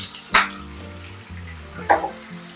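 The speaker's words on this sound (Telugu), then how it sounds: "వేసిన తర్వాత పచ్చివాసన పోయే వరకు మనం ఇది వేపుకుందామండి" Ground masala paste fries in oil in a pan for Andhra-style mutton curry, a soft close sizzle under low hum, with two sharp bursts as the paste is stirred or spatters.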